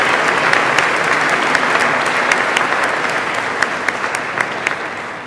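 An audience in a hall applauds nursing assistant graduates at a technical and vocational school graduation ceremony, steady dense clapping, loud and continuous, slowly tapering near the end.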